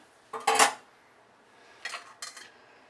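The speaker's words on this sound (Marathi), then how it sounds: "आता ह्याच्यामध्ये बघा 1 चमचा मी तेल टाकते, 1 मोठा चमचा तेल. कढई चांगली पहिलीच गरम आहे बघा." A large spoonful of oil goes into a hot kadhai while cooking paneer chilli dry: a few short metallic clinks and splashy bursts, close and brief, separated by quiet.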